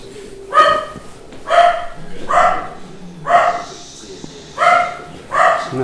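Dogs bark in a steady series of about six loud, evenly spaced barks, close and prominent with little else around them.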